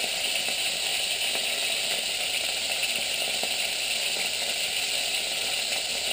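Steady, dense sizzling of beef browning in a pan on an electric hob, an unbroken close-up hiss and crackle that holds at an even level throughout.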